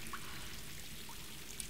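Water pours steadily in Tomb Raider (2013) to douse a fire, a soft, continuous splashing wash that sits quietly in the background for the whole moment.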